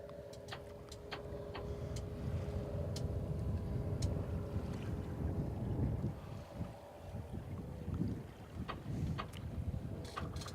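A Freedom 40/40 sailboat with a self-tending jib tacks under way, its hull and rigging steady under continuous wind rush and water noise, with a few sharp creaks and clicks scattered throughout.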